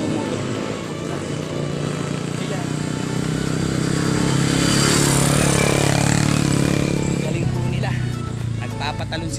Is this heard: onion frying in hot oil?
no